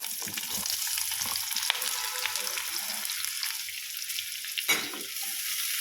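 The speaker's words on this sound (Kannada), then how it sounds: "ಧನ್ಯ ಮತ್ತು ಮೆಣಸಿನ್ಕಾಯಿ ಮತ್ತು ಸ್ವಲ್ಪ ಅಕ್ಕಿ ಹಾಕೋಬೇಕು ಇಷ್ಟು ಈಗ ಎಣ್ಣೆ ಹಾಕ್ಬಿಟ್ಟು ಫ್ರೈ ಮಾಡಬೇಕು" Coriander seeds, dried chilies and a little rice fry in about two spoons of oil, a steady bright sizzle running throughout with occasional stirring scrapes and clinks, close and alone without talk.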